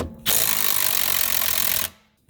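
A pneumatic impact gun hammers at a seized front stabilizer link nut on a 2006 Volkswagen Jetta TDI, one loud continuous rattling burst of about a second and a half that starts and stops abruptly, with no talk.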